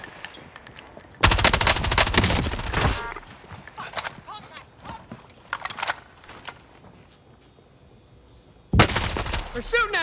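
Rapid bursts of automatic gunfire from a first-person shooter video game, with loud sustained volleys near the start and end and scattered shots between, under excited player talk.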